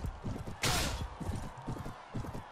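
Horse hooves clip-clopping in the video game Mount&Blade Warband, a steady run of soft thuds over a game backdrop with a brief bright burst of noise early on.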